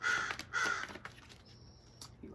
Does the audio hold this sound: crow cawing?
yes